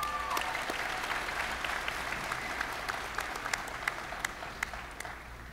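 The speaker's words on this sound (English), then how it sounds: "so let's give her another round of applause." A university commencement audience applauds a nursing graduate, a steady wash of clapping with sharper individual claps standing out as it slowly thins toward the end.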